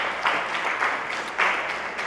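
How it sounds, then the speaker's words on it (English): An audience at a live pitch competition applauds the finalists, a steady wash of clapping with a few louder bursts, fairly close and without speech. "Let's give a round of applause."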